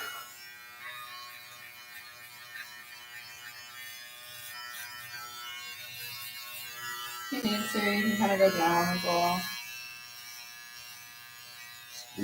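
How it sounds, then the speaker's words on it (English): A foil shaver used on a client's head during a zero fade haircut gives a faint steady buzz, then rises into a louder rattling drone for a couple of seconds as a barber talks throughout. "Why would you use the foil shaver over?"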